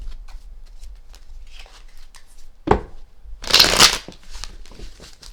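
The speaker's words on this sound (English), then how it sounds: "Shuffling it 3 times." Tarot cards shuffled by hand make a short, crisp riffling burst up close, standing out from quiet room tone.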